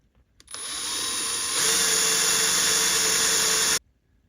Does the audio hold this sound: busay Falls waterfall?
no